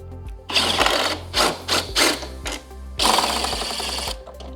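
A power driver spins out screws from a 2024-2026 Harley-Davidson Road Glide fairing, giving a series of loud buzzing mechanical bursts in uneven rhythm, ending in one long steady run.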